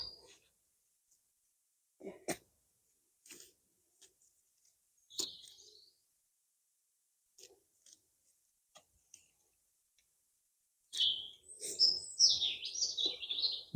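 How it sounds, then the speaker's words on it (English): Birds chirp and sing outdoors in a garden where garlic is being planted, with sparse scattered calls and soft clicks, then a livelier burst of song near the end. "you're getting a nice song from these birds"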